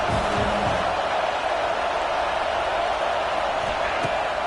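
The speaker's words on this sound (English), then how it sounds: "This crowd bringing the energy and noise early." Football stadium crowd roaring and cheering during a game, a loud, steady wash of noise filling the whole stretch with a brief sharp thump near the end.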